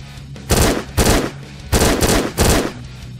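Uzi fire in a zombie shooting video game: four rapid automatic bursts, each about a third of a second, loud and close, separated by short pauses.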